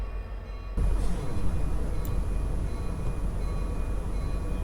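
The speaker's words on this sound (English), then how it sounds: "We'll notch her up slowly here." A BNSF coal train locomotive in Train Simulator 2021 throttles up from rest, its low diesel rumble abruptly growing louder and then holding a steady, heavy drone with a faint metallic squeal, and no talking.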